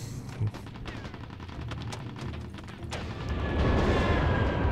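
Gunfire in Mercenaries: Playground of Destruction on PS2, a rapid automatic burst of shots with distinct cracks, building into louder rumbling blasts toward the end, with no talk.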